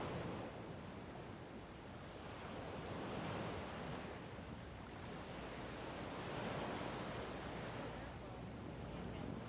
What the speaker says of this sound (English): enjoy the relaxing sounds of the water behind me